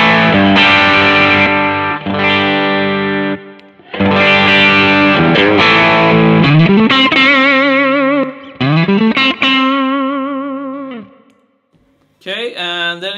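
Electric guitar through a Tube Screamer-style overdrive pedal in modern mode, pushed by a booster pedal for a hotter, saturated tone; sustained chords and bending lead lines, loud and close with short gaps between phrases.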